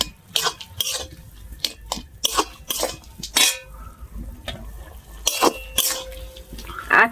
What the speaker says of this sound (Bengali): এটা আমি নেড়ে ছেড়ে ভালো করে তরকারিটা পুরো শুকনো শুকনো করব।